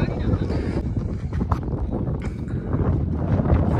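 Strong wind buffets the microphone at an outdoor cricket ground, a steady low roar with rumbling gusts throughout while a commentator talks over it.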